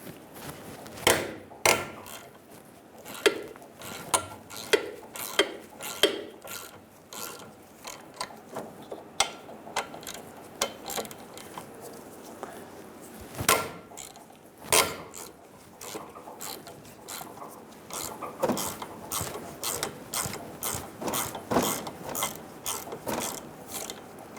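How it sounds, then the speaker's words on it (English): A ratchet fitted with a 7mm hex head loosens the front brake caliper bolts on a 2000-2007 Ford Focus. It clicks in close, rapid bursts of pawl ticks, pausing between strokes and then running more continuously toward the end. "Using a 7mm hex head, we're going to remove the caliper bolts."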